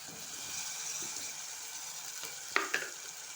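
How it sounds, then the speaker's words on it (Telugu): Potatoes fry in hot oil for a curry, a steady close sizzle with a couple of sharp clinks from a utensil near the end, no talking. "ఆలుగడ్డలు ఇలా నూనెలా వేయించాలి"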